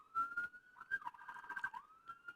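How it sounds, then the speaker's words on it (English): Emergency vehicle sirens wail faintly from somewhere outside, a distant wavering tone that rises and falls steadily for a couple of seconds with no talk over it. "Sorry about the sirens, there's something going down somewhere"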